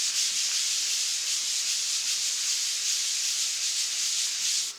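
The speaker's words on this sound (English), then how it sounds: "You can even flip it over and give it a good rub." Steady, close hand rubbing over a glued camouflage-paper background laid flat, a continuous dry, sanding-like scrape at even loudness from start to finish, with nobody talking.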